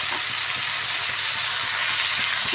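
Mixed vegetables frying with salt and coriander powder, a steady dense sizzle throughout while being stirred, close and continuous with no talk.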